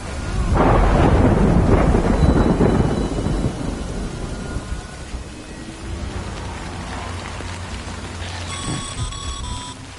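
Thunder in a rainy storm rolls loud and close at the start, then fades into steady rain pattering on surfaces, with a few faint beeping tones near the end. Setting is the video game Death Stranding.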